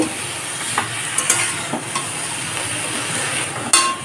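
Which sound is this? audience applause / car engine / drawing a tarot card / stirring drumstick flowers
stirring drumstick flowers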